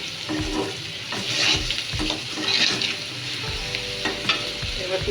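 Shrimp sauté in hot oil in a pan, with a continuous close sizzle punctuated by repeated scraping and stirring knocks of a utensil against the pan throughout.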